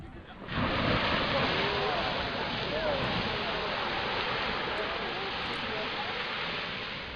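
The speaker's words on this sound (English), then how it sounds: "Hope you saw the force at which the water erupted" A geyser erupting hot water with a sudden loud, steady roaring rush of spray that begins after a brief quiet moment and holds strong to the end.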